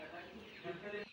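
Chickens eating feed mixed with protein meal cluck softly and continuously at close range, a brief burst of low murmuring calls.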